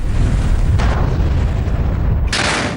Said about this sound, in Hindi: धमाका है,